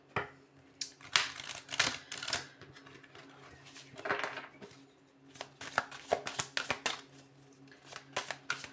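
Tarot cards being shuffled and drawn, close riffling bursts and quick flicking slaps of cards in irregular rhythm, with no talking.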